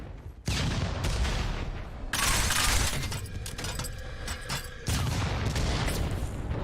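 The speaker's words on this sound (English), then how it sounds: "somebody got hit by one of the enemy grenades" Enemy grenade explosions in Revulsion going off amid heavy combat noise, with loud broadband blasts and debris over continuous gunfire, and no talking.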